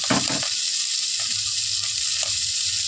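Potatoes frying in a pan of hot oil, a steady close sizzle throughout with a louder burst of crackling at the start and a few small pops, no voices.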